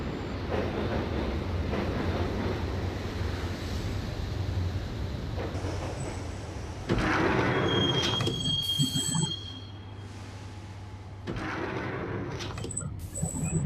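A subway train ride in the video game Max Payne: continuous loud rumbling of railcars with high metallic wheel squeals and screeches rising over the din, swelling and easing over several seconds.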